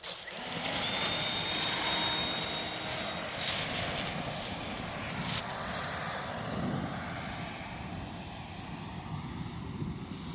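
A leaf blower clears leaves from a backyard campsite in December, a loud continuous engine roar and rushing air that holds steady throughout with a faint high whine on top.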